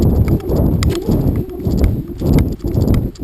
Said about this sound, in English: Nice gentle canter.